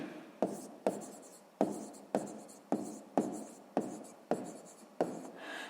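Pen writing numbers on paper, a series of short scratchy strokes in a quick, fairly regular rhythm, close and clear with no voices.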